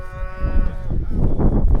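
A cow on a Canadian farm gives a single drawn-out moo nearby while the herd is being driven home, followed by rustling and shuffling movement.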